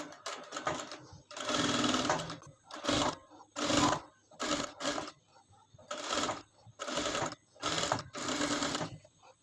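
A sewing machine stitching the seams of a frock runs in repeated bursts of rapid whirring, each lasting about a second with short pauses between, loud and close with no talk.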